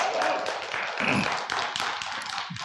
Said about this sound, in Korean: 기대를 안 한다니까 또 박수를 또 잘 치네